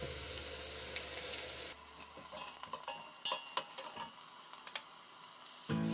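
Curry leaves sizzling in hot oil in a pan while being stirred, a steady close frying hiss with scattered clinks and scrapes of a spoon against the pan, no talking.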